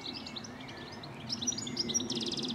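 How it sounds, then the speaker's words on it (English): Chiffchaffs, blackbirds and goldfinches sing on a May afternoon along a countryside walking route, a dense overlapping chorus of chirps and trills close by with a faster repeated trill at the end, no voices. "as there's a cacophony of birdsong around me."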